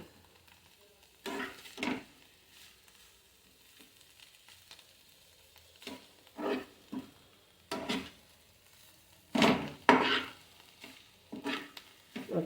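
Jackfruit curry being stirred in a pan, with several separate bursts of scraping and sizzling and quiet gaps between them, fairly close and moderately loud.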